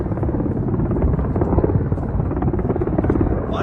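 An Indian Air Force Mi-17 V5 helicopter flies overhead in Leh, its rotor thumping loud and steady with a dense low drone across the whole stretch.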